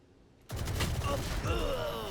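Shotgun blasts in the Valorant shooter game, starting abruptly after a brief lull and followed by a dense burst of gunfire and effects, with game voices murmuring underneath.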